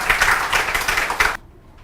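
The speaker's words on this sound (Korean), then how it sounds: "큰 박수로 환영해 주시고요." A seminar audience claps to welcome a speaker: a brief burst of close clapping that cuts off abruptly, leaving near silence.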